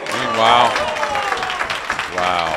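A crowd at a 2024 Premier League Pool final applauds a carom shot sinking the 9 ball, with steady clapping under an excited commentator's voice.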